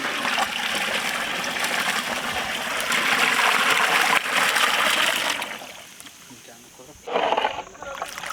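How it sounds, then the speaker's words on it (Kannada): Water poured into a pot of pork sambar curry makes a rushing, splashing pour that swells for several seconds, then breaks off and returns in a short second splash, loud and close. "ಇವಾಗ ಸಾಂಬಾರ್ಗೆ ನೀರು ಹಾಕಬಿಡೋಣ"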